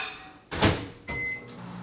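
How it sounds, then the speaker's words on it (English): A kitchen microwave oven door thumps, a second clunk follows, and a short electronic beep sounds as the oven is set to warm butter. All are close and fairly quiet. "I'm going to pop this into the microwave."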